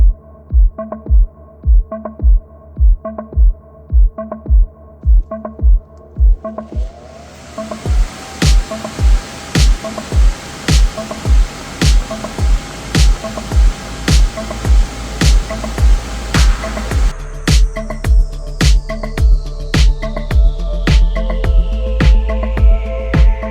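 An electric blower inflating an unrolled inflatable booth, a steady rising whoosh with a rhythmic thumping pulse running throughout, growing fuller and louder as the booth fills.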